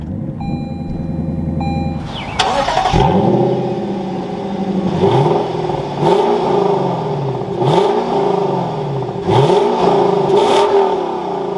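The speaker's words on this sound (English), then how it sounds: "But let's fire this up now and take a listen to that NA V8." Starter whine on a 2024 Lexus LC500 naturally aspirated V8, then the engine catches with a loud bark and settles to idle, followed by several sharp revs that rise and fall, close and loud, with no talking.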